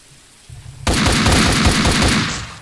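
Rapid gunfire from the video game Max Payne 2: a short low thump, then a sustained burst of dense, loud automatic shots that fades slightly toward the end.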